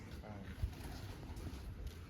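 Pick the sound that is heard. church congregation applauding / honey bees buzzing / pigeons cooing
pigeons cooing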